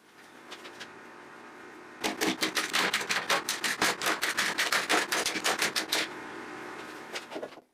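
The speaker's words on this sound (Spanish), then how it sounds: "pasé a raspar todo el pegamento para poder inspeccionar cada unión" Dried wood glue gets scraped off clamped cutting board strips in a fast series of sharp, rasping strokes, about twenty in quick rhythm, close up and alone after a few faint scrapes.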